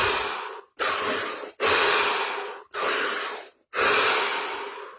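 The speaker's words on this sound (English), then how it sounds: "Take 5 deep breaths" Five long, deep breaths taken during a still, silent group session, each a broad airy rush separated by brief pauses, close and fairly loud with no talking.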